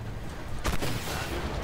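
A single sharp tank cannon shot in the game Armored Warfare booms out briefly, quieter in-game ambience around it.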